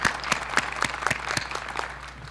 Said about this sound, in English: let's just give you guys a quick round of applause